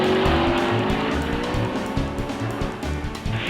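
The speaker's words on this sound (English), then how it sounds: "Into the south turn, the Ferraris of Hawthorne and Collins lead Fangio's Maserati." Ferrari and Maserati race cars of Hawthorn, Collins and Fangio's era charging into the south turn, a loud roaring engine blend with tire squeal and rhythmic pulsing as the cars sweep through the corner.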